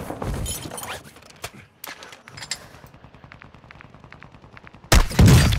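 Sniper gunfire in a zombie royale video game: sharp, separated shots with a loud burst of fire near the end, over game ambience.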